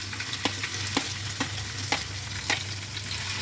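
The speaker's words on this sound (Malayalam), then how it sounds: "ഇനി ഒരു ചട്ടി വെച്ച് എണ്ണ ഒഴിച്ച് ചട്ടി ചൂടായിട്ട് എണ്ണ ഒഴിച്ച് ഇനി നമ്മൾ എടുത്ത് വെച്ചിരിക്കുന്ന ഓരോ ഇൻഗ്രീഡിയൻസും ഇട്ട് കൊടുക്കാം" Sliced onion fries in hot oil in a pan, giving a steady loud sizzle with a low hum beneath and light regular stirring clicks.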